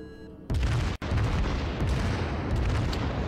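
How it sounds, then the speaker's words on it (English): Battleship main guns firing in the naval game World of Warships on the Kongo, a deep booming salvo that bursts in suddenly and rolls into a sustained heavy rumble. "I fired there trying to get that battleship and all of my shots hit that island"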